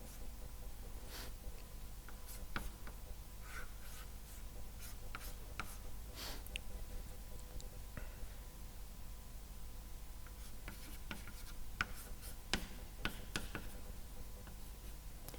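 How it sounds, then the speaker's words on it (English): Chalk writing on a board during an organic chemistry lecture, faint scattered taps and short strokes in irregular bursts over a quiet room hum. "I should write down what you get then"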